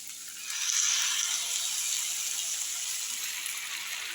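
Hot water pours into an onion-tomato masala in a pan, a soft gushing hiss that starts after a brief quiet and continues steadily, close and fairly quiet.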